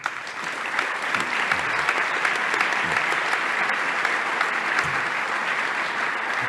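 Sustained audience applause fills a conference hall on migrant solidarity, dense steady clapping from a large crowd at even loudness throughout, with no speech over it.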